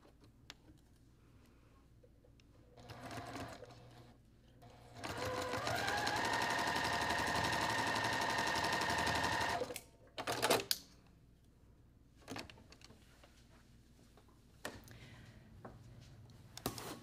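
A home sewing machine runs a steady stitching burst for about four seconds while sewing a quarter-inch seam with a quarter-inch foot. Brief handling clicks and shorter motor spurts come before and after it.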